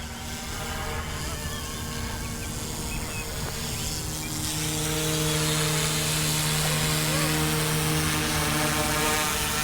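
An Airwolf E188S RC helicopter hovers close by before landing, its rotor and motor making a steady buzzing whine that grows slightly louder and fuller partway through, with no talking.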